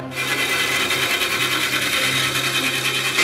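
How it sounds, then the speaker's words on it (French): A band saw grinds steadily through metal, a loud, continuous rasping hiss that does not let up. "c'est la première fois que je vois une scie à ruban qui découpe le métal"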